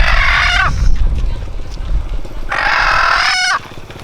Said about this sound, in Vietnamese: con gà đây này